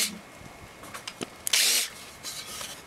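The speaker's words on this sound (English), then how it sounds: "That's a special countersink bit there." A power drill with a countersink bit whirs briefly into wood for about a third of a second, preceded by faint clicks and scraping of handling, then a quieter rub.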